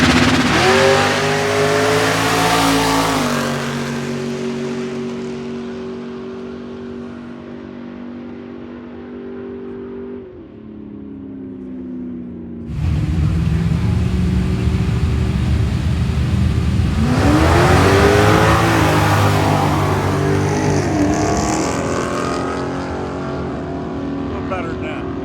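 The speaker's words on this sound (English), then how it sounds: "Dallas Buxton, left-hand lane in the 2020 Camaro, taking on Joseph Payne" At a drag strip test and tune, cars including a 2020 Camaro launch with loud rising engine revs and rapid gear changes, fading away. A second launch roars in after a pause, with a voice heard early on.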